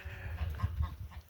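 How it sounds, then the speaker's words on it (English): Geese honking on a small farm with chickens and ducks nearby, a short burst of low, nasal calls close to the microphone, quiet and repeated in a quick irregular rhythm. "it's just the geese making the noise"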